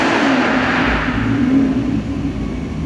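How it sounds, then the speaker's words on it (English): A car engine starts and runs in the background near a supercharged Ford XR8 Sprint at a motor gallery, a steady low engine rumble with a brief rising whine, fairly loud and continuous with no talking. "had another car start in the background"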